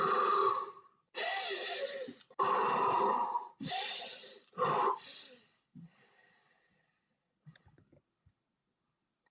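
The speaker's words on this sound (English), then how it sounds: "the goal is to restore calm breathing as quickly as you can" Heavy, loud breaths after intense sport exertion, several long noisy exhalations in quick succession that slow and fade to quiet, calm breathing with faint clicks.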